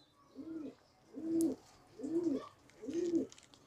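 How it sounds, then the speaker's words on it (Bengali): A male pigeon coos in four evenly spaced, rounded phrases, close and clear, with quiet gaps between them and no talking over it. "নর পায়রাটাকে দেখাচ্ছি"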